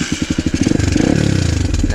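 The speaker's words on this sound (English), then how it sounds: "now I do a kickstart." An SSR150R motorcycle is kickstarted, first chugging in a few slow, uneven pulses, then catching into a close, rapid, steady engine putter.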